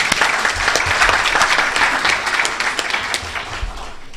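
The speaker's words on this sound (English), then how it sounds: "Can we just give a round of applause?" A crowd at a library service launch gives loud, sustained applause after a military band's music performance, dense clapping continuing throughout with a few sharper individual claps close by.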